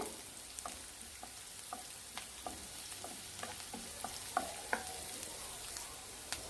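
Onion sizzling and sautéing in a pan for upma with a steady hiss, punctuated by light clicks and scrapes of stirring, no voices.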